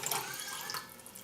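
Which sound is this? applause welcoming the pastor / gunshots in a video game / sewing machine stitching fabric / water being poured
water being poured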